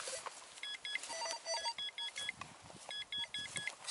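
Rutus metal detector searching for buried Catherine-era five-kopek coins, giving a rapid string of short, high electronic beeps in bursts and stutters, fairly faint over a soft outdoor background.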